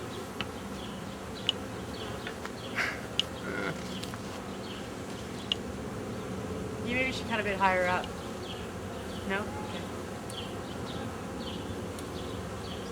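Honeybee swarm droning softly in a Vancouver backyard near a beehive, a faint steady buzz under quiet, intermittent conversation, with a few brief clicks and branch-handling noises.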